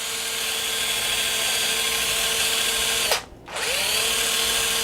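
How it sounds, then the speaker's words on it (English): A power drill bores a hole through a baked potato, its steady high motor whine running close and loud, briefly winding down and stopping before spinning back up to full speed. "we've got it drilled out and did a fairly decent job"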